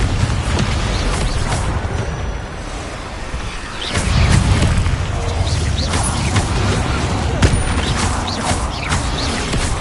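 Confringo blasting spells go off in Hogwarts Legacy: a loud, continuous barrage of explosive booms and crackling impacts, with a heavy low blast near the middle and frequent sharp hits on top, no voices.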